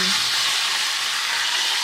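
Fish fries in oil in a pan, sizzling and crackling steadily, a loud continuous frying hiss with no other sounds.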